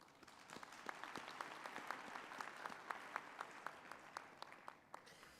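Audience at a university graduation ceremony clapping steadily, a dense sustained round of applause with distinct nearby claps throughout.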